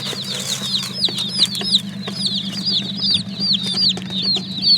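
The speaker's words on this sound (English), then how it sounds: "So these chicks come from Murray McMurray Hatchery." Baby chicks from a hatchery peep constantly inside shipping boxes, a dense chorus of high, rapid chirps close by over a low steady hum.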